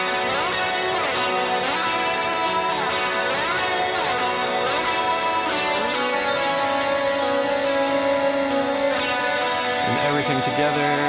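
A pair of lead electric guitars, one panned hard left and one slightly right, play harmonized melodic lines over the rhythm guitars, sustained and effects-laden, loud and continuous with no voices.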